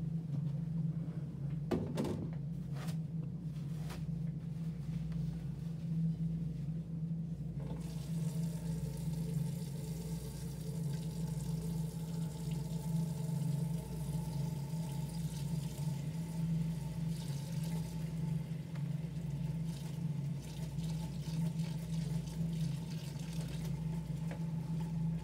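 Water runs steadily into a basin for a partial bed bath, a continuous close trickle and splash that lasts throughout, with a few knocks and clatters near the start.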